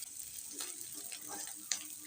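Chopped onion, green chili and garlic fry in oil with a quiet, steady sizzle, broken by faint stirring scrapes and a single sharp tick near the end.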